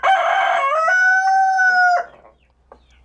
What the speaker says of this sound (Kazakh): Айғайлап тұрған әтеш